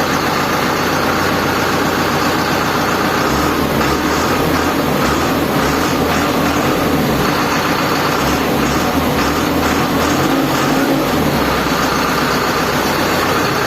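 A heavy diesel engine of a Deutz-Fahr tractor idles steadily and loudly throughout, with a deep rumbling throb and no talking.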